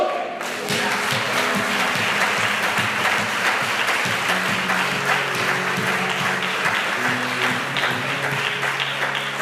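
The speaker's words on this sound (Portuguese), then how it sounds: "Aplauda o Senhor." A church congregation applauds, a thick, sustained round of clapping after a brief quiet start, continuing evenly with faint low sounds underneath.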